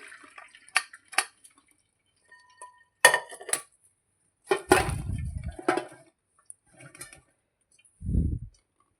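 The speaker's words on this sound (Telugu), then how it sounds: "ఇప్పుడు మనం ఇది చిల్లుల గిన్నెలోకి వడగట్టుకోవాలండి" Boiled pigeon peas drained into a metal colander: scattered metallic clinks and taps of pots, dripping water, and a couple of heavier sloshing pours, close and intermittent with quiet gaps between.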